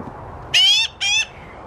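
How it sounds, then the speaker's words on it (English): Two loud, harsh squawks from a young bird in quick succession, close by, with quiet background between. "He's screeching like that when he's hungry."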